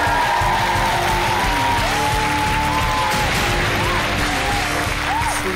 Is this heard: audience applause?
yes